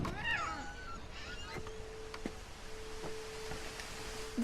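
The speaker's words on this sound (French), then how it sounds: "Chat." A cat meows several times in the video game What Remains of Edith Finch, fairly close and clear, over a steady low tone and quiet background ambience; no one talks.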